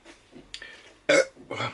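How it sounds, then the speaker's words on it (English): A loud, throaty burp bursts out after some faint rustling, following a drink of pale ale, then a second rougher belch close to the listener. "Burp of satisfaction."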